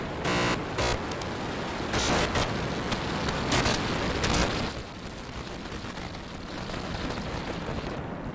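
SpaceX Starship rocket roaring at liftoff, a dense, crackling broadband rumble heard from a distance, surging in bursts during the first few seconds and then settling into a steadier, slightly softer roar.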